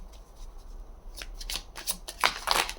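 Tarot cards being shuffled by hand in a quiet room, a run of soft riffling bursts that grow louder and denser toward the end, close to the listener.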